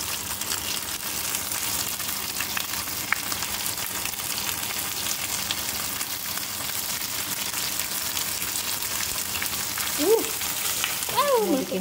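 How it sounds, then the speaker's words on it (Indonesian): Tofu frying in hot oil gives a steady, close sizzle that runs unbroken throughout, with a few faint clinks near the end. "Kayaknya mau goreng tahu."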